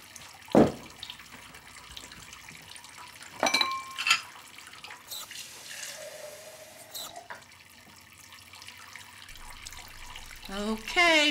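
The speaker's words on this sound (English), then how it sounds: "Put me down by the sink and get me some water." A sink tap runs water, splashing in bursts with a few clatters and knocks around it, then settling into a softer trickle before a short squeaky chirp at the end.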